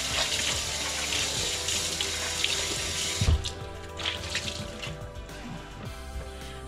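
Tap water runs steadily into a sink while something is rinsed, a continuous close splashing hiss that shifts as hands move through the stream, with no talking.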